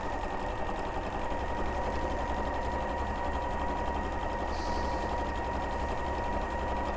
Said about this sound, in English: So just sew around the circle, leave a 2-inch turning gap or thereabouts